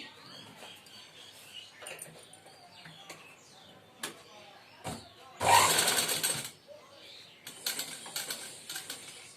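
A sewing machine stitches puff sleeve fabric in a single loud burst of about a second, rising out of a quiet room where faint voices and small handling noises surround it.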